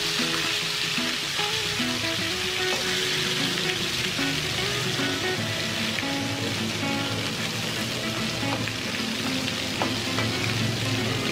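Steady, dense sizzling and crackling of crispy fried chicken in hot oil, loud and close, continuing without pause and with no voices.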